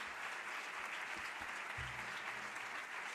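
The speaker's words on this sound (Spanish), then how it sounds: "Me gustaría darle un aplauso a esta artista, a esta pintora" Applause from an audience at an award proclamation ceremony for a painter, a steady dense wash of clapping filling the whole stretch, with a few low thumps beneath.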